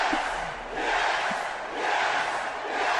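AEW wrestling crowd turning on Cody, a loud, dense mass of jeering voices rising and falling in waves across the arena with no single voice standing out.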